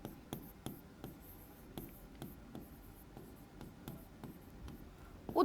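Chalk or marker scratching across a classroom board during a Hindi-medium Class 9 science lesson on force and laws of motion, with short strokes and taps repeating irregularly, fairly faint against a quiet room.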